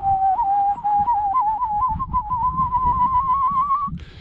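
During a half marathon on the Norfolk coast, a person whistles an imitation of a curlew call: one sustained, slowly rising warbling note lasting about four seconds, close and clear over faint outdoor noise.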